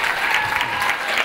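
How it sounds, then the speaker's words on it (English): Brief burst of audience applause during a cooking demonstration, a dense even clatter of many hands clapping together, close and steady without pause. "Can you please applaud this guy?"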